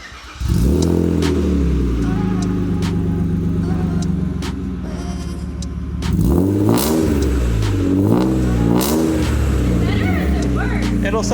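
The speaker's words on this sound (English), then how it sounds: "Cold exhausts always sound way more raspy." A BMW E36 with a new exhaust, still cold, revs hard in repeated raspy bursts, its engine climbing and falling close by after a steady idle, with people talking under the noise.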